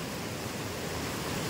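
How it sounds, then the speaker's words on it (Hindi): Waterfall at Barua Sagar in Jhansi pours in a steady, dense roar of rushing water, loud and unbroken throughout with no voices. "ये झरना एक बार फ्लो देखो"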